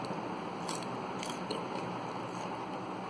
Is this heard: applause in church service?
no